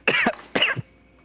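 Two sharp coughs in quick succession, close and fairly loud, during a Curse of Strahd tabletop role-playing session.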